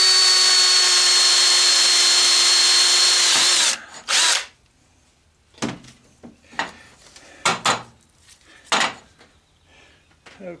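A power drill bores into a hoverboard wheel in one long, loud continuous whine, then stops, followed by several sharp clanks and knocks of handling nearby.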